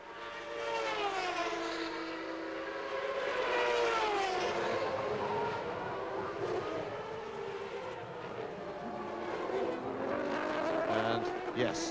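At the 1993 Canadian Grand Prix, a Formula One car's high-revving engine wails up and down through the gears, the pitch rising and falling over a steady broadcast background with commentary talking over it.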